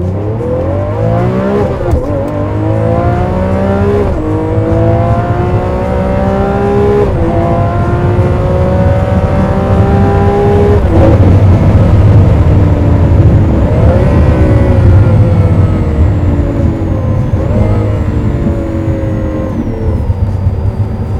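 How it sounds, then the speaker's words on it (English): A naturally aspirated Lamborghini Aventador V12 accelerates hard, heard up close as repeated rising sweeps where the pitch climbs and drops with each gear change, loud and continuous throughout. "Just a big, high revving V12 engine."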